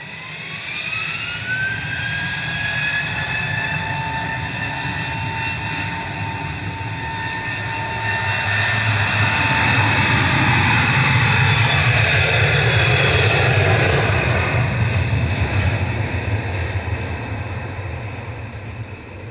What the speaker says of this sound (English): 555 to Dublin departing there. EIDWX is 737-800.